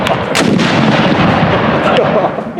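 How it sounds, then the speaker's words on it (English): A black powder cannon fires at a North-South Skirmish Association fall shoot: one loud, close blast booms out and then rolls off into a long, heavy echo. "a way that would allow me to actually light one of these cannons"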